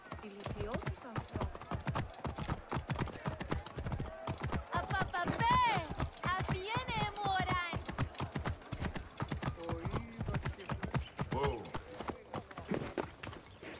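A horse stuck in a wall in Assassin's Creed Origins produces rapid, continuous clip-clop hoofbeats with a brief whinny, fairly quiet, heard under a person talking.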